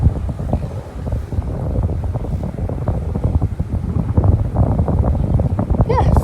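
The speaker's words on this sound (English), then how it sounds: "If you listen, you can hear the water moving." Steady broadband rushing of a village water supply in rural Africa with a low rumble, fairly close and continuous, with faint voices briefly audible near the end.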